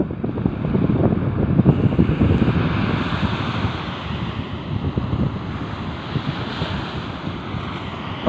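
Surf on the south-coast beach at Balekambang, Malang, rolls in as a loud, continuous roar with heavy wind buffeting, the breaking waves surging and easing without a pause and no voices.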